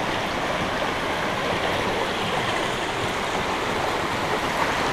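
The Costa Rica river in Braulio Carrillo forest near Guápiles rushes steadily close by, a loud, dense, unbroken wash of flowing water with no voices.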